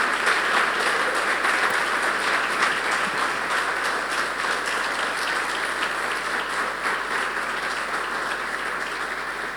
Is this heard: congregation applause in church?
yes